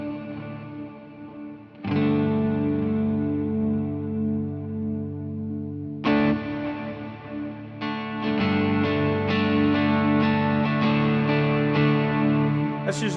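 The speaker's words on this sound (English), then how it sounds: "So back to our normal reverb." Electric guitar chords ring out with a wash of reverb, sustained strums trailing off into lingering echoes, played alone without any talking.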